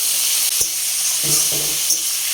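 Food fries with salt and turmeric on a stove, a loud, close, steady sizzle broken by a few soft knocks of stirring, with no talking.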